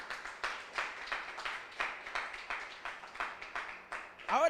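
A church congregation applauds for Jesus with steady, rhythmic clapping in unison, faint and evenly paced throughout.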